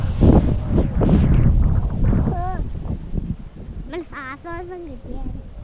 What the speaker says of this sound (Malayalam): ഇവിടെ ഭയങ്കര കാറ്റ് വരുന്നതാ